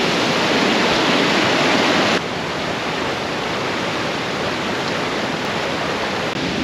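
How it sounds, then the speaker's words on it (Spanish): Waterfalls at Si Phan Don, the 4000 Islands area of Laos, roar as a loud, constant broadband rush of falling water heard up close, with a slight drop in level partway through and no voices. "Y las cascadas ya se escuchan, están justo aquí."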